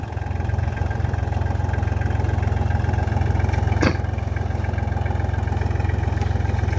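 An Iseki TL 2007 tractor engine chugs steadily at close range in a sugarcane field, a low continuous idle-like rumble with a brief sharp knock near the middle.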